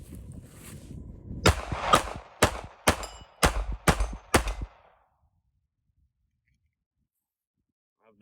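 A Ruger LCP Max pocket pistol fired seven times in a quick, slightly uneven string of sharp, loud cracks, followed by silence.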